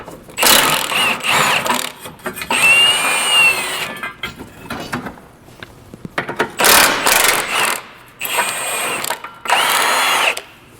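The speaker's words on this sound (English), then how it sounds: "Now we remove the front subframe bolts." Power tool, likely an impact driver, removing front subframe bolts on a Toyota, loud and close in several whirring, rattling bursts of one to two seconds separated by short pauses.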